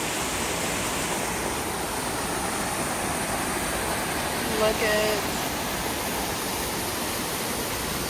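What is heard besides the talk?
waterfalls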